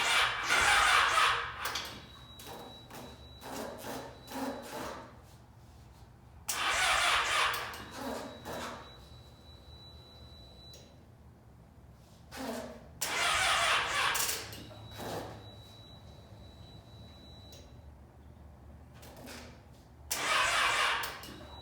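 A Yamaha motorcycle engine cranks repeatedly after a fuel pump replacement, several harsh whirring starter bursts of one to two seconds each with pauses between, close by, failing to catch as the battery weakens.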